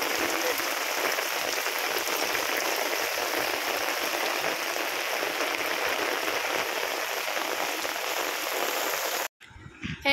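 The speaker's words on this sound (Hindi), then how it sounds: "वर्षा हो जोरसोर" Heavy rain pours in a steady, dense broadband hiss, loud and unbroken for about nine seconds before cutting off abruptly near the end.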